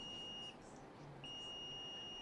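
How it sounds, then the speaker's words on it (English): A multimeter in continuity mode beeps while probing capacitors on a MacBook Pro logic board near the Type-C power IC U3200, giving a steady high-pitched tone that cuts out briefly and resumes, faint and close, with no talking. "getting beep on both end of these capacitors, which is not right"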